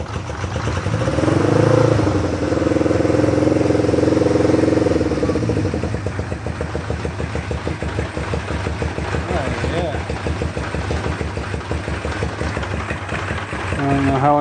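An old motorcycle engine, its carburetor freshly cleaned, starts with the choke on in neutral and settles into a steady, clattering idle with occasional revs, while someone talks over it close by.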